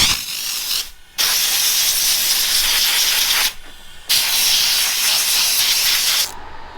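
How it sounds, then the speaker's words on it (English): Steam cleaner hissing onto rubber car door seals in bursts: a loud, steady spray of about a second, a short gap, then two longer hissing passes of two to three seconds each, close by with no talk. "I'm steaming the door rubbers."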